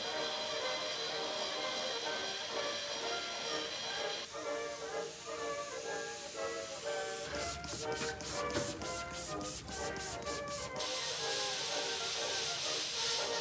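Steady hiss of steam rising from a soaked, moldy car floor in a Mercedes after a coffee spill, continuous and fairly close with shifting texture and a brief rapid rattling patch midway.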